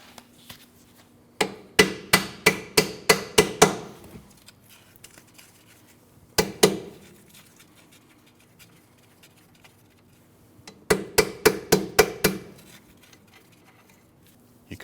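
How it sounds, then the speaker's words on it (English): A hammer taps a nut threaded onto a Honda CR-V front wheel hub in quick bursts of sharp metallic blows, about eight in a row, a single strike, then another quick run, close and clear with no talk. "you can tap it with the hammer here without ruining your threads"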